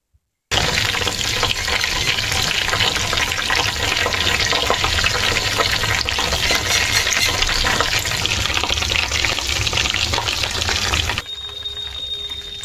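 Chicken drumsticks fry slowly in a pan with a steady, loud, dense sizzle that holds for most of the clip, then drops away abruptly near the end to a quieter background. No voices are heard.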